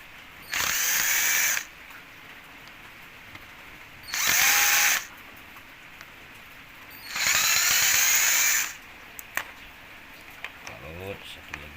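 Power drill unscrewing bolts on a washing machine solenoid: three separate whirring bursts of one to two seconds each, close and loud, with small clicks and handling noise between them.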